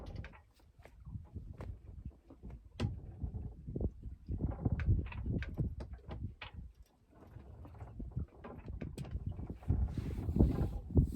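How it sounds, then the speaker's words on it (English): Wind at sea aboard a 37-foot vintage sailing yawl: a gusty, rumbling roar with irregular knocks and splashy bursts that swell and ease over several seconds. "Just finally got some wind."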